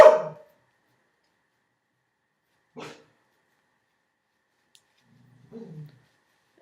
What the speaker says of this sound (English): barking per usual